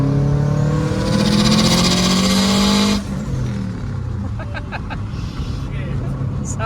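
A Subaru WRX hatch with an EJ25 engine and a newly installed turbo revs hard and loud close by, rising to a sustained roar before dropping off into a rumbling idle with faint background voices.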